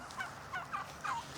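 Chickens on a small farmstead give a few clucking calls, three or four short bursts spaced across a second and a half, fairly quiet and alone with no talk.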